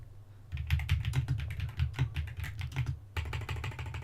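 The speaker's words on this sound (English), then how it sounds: "Sorry, I'm typing header." Rapid typing on a computer keyboard, a close, busy patter of clicky keystrokes with a brief pause in the middle before the tapping resumes.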